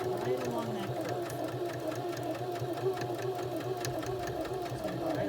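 A sewing machine zigzag-stitches along the curved seam of a fabric face mask, whirring in a continuous, steady rattle with voices talking over it.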